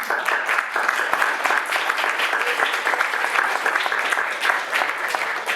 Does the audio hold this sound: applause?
yes